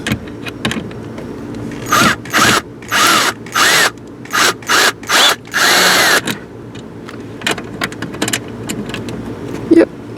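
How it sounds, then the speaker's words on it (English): Power drill whirring in several short bursts while screws are removed from a VW Jetta during a brake light switch replacement, close and loud, with brief pauses between runs. "Okay, let's remove these screws."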